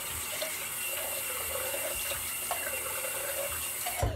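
Water runs steadily from a tap while a man rinses off after shaving, a continuous hiss close by with faint splashes and no talking.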